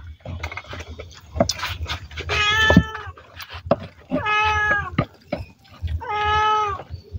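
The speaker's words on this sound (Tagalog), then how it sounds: "Maingay ang aking pusa." Loud, drawn-out meows from a cat, about three clear calls with short gaps between them, in a home kitchen during a meal, with faint room noise and a little background sound.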